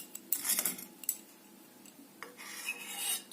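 A spoon scrapes and scoops thick homemade sour yogurt from a bowl, giving a few soft close rasps and clinks of metal against the dish, with short scraping strokes and a quiet pause in between.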